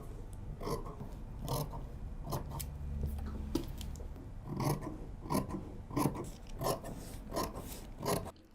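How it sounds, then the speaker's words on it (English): Scissors cutting fabric for the front of a bias flared dress, a series of close rasping snips in an uneven rhythm, moderately quiet. "I remind you that I'm cutting the front."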